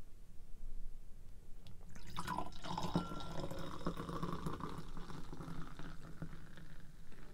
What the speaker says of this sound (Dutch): We schenken allebei eigenlijk prachtig mooi donker uit.